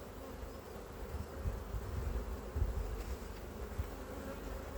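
Many honey bees buzz at an open hive in a dense, continuous drone, close by and steady, with no talking.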